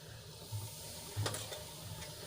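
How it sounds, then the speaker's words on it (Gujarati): Cumin and asafoetida sizzle softly in hot oil, with a few stirring scrapes of a spoon against the pan. "આપણું જીરું સંતળાઈ ગયું છે તો એમાં આપણે ચપટી હિંગ એડ કરીશું"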